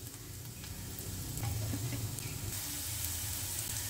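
Bitter gourd rings sizzle and crackle steadily in an oiled pan over a low-to-medium gas flame, a close, continuous frying hiss that swells slightly partway through.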